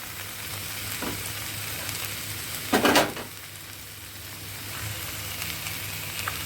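Marinated chicken fries over a high flame in hot oil in an Indian methi chicken dish, with a steady close sizzle throughout and a brief louder rush of crackle midway as the pieces are stirred.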